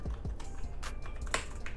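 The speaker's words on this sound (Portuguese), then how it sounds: "para um teclado mecânico, elas são bem silenciosas até" A Logitech G613 wireless mechanical keyboard being typed on, giving a few soft, sparse key clicks that stay faint and close against a quiet background.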